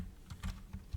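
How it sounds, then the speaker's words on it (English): A short burst of typing on a computer keyboard, several quick soft keystrokes within one second, close and muffled. "I'm going to type in plastic"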